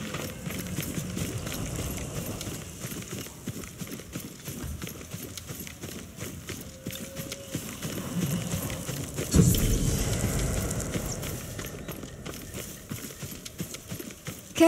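Horse hooves clip-clop steadily on a path in the samurai action game Ghost of Tsushima, a continuous rhythmic trotting at moderate distance under ambient game music, with a louder thump near the end.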